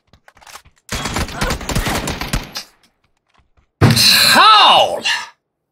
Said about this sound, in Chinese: 开枪了，不亏。